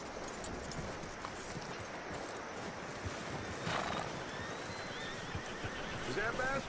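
A horse in Red Dead Redemption 2 whinnies while its hooves clip-clop steadily, a faint game soundscape under a voice.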